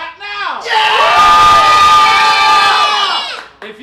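A game-show studio audience erupts in loud cheering, whoops and shouting to vote for a favorite, the crowd roar swelling quickly, holding steady for about three seconds, then dropping off.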